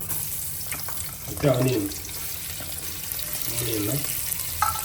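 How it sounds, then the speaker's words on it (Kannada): Onions fry with cardamom, cloves and star anise for biryani, making a steady low sizzle with occasional stirring scrapes, while brief voices talk in the background. "ಸ್ವಲ್ಪ ಇನ್ನು ಫ್ರೈ ಆಗಬೇಕು ಆನಿಯನ್"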